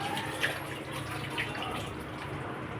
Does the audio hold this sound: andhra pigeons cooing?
no